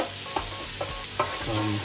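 Garlic and leek frying in a pan for a Maultaschen and vegetable dish, a steady close sizzle with a few soft stirring scrapes and taps, no talking.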